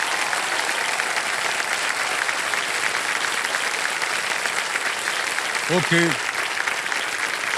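A studio audience on the KBC Season 17 quiz show breaks into loud, sustained applause that fills the room steadily from start to finish, and a single voice speaks one quick word near the end.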